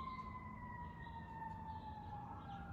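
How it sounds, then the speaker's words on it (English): A faint, distant siren wailing in a steady, slowly falling tone over low city rumble. "You can hear the sirens."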